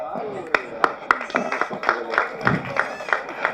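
An audience claps in appreciation at a movie audio release function, with sharp, scattered claps at a fairly regular pace under a speaker's ongoing voice.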